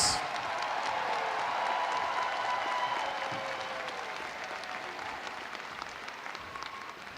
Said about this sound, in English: give another huge round of applause